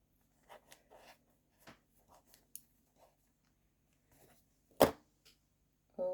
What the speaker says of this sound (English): that one I'm gonna have to cut. Where are my scissors?